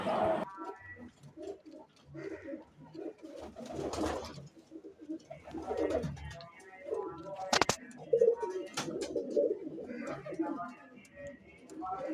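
A pair of Ferozpuri pigeons cooing close by, soft repeated low coos and a few chirps running under someone talking throughout.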